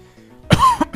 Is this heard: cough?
yes